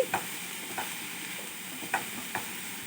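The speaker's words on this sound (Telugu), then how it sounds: "ఆన్ కట్ చేసుకున్న ఆనియన్స్ మన క్యారెట్ క్యాప్సికము అన్నిటినీ బాగా కలయి తిప్పుతున్నాను ఈ విధంగా" Chopped onions, carrot and capsicum stirred in a pan with a soft sizzle underneath and a handful of sharp spoon scrapes and taps spaced irregularly, close by with no talking.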